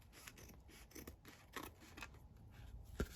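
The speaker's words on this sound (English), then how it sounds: "Right, cut that down there, just trim it." Scissors trimming paper for a craft page give a quick run of soft, close snips and rustles at low level, ending with one sharper cut.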